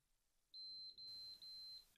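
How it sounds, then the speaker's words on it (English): Three high, clean electronic beeps from a faulty games console, evenly spaced and sustained, sounding clearly against near-silence. "1, 2, 3 beeps"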